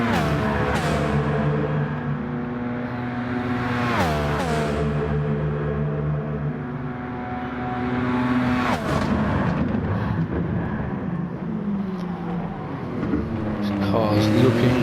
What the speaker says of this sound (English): Car's looking and sounding absolutely beautiful